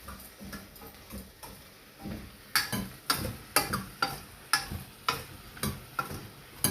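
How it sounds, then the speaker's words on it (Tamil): Vegetables sautéing in a pot with salt and turmeric for one-pot sambhar rice: a low frying hiss under a regular run of spoon scrapes and taps against the pot. The strokes start soft and grow louder and quicker in the second half. "கொஞ்சம் வதக்கின்றோம்"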